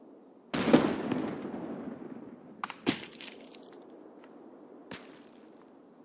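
Grenade explosions in Escape From Tarkov: one loud blast with a long rumbling tail, then a sharper crack a couple of seconds later and a fainter thud after, with no talking.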